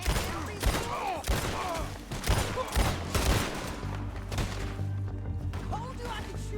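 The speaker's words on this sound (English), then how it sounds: "Told you I could shoot a gun, didn't I?" Gunfire in Red Dead Redemption 2 during a shootout, with repeated sharp shots and impacts spread through the stretch over game music and ambience, dense and loud in the first half and thinning toward the end.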